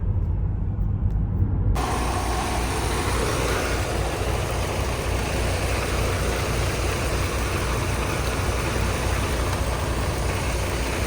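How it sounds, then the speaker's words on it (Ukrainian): A truck engine turns over and settles into a steady, loud low rumble of idling that runs unbroken to the end. "Завів я машину"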